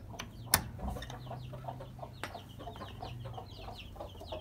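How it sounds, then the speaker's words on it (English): Hens cluck softly inside a coop bedded with wood shavings, one hen up on the roost with chicks nearby. Scattered short clucks and chirps sound over a steady low hum, with one sharp knock near the start. "the other mama hen, she's up there on the roost"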